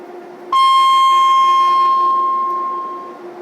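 A single loud, sustained electronic alarm tone at 2,200 hertz, built to sound like a brutal rail-service warning signal, starts abruptly and holds steady for about two seconds before trailing off, with no voices.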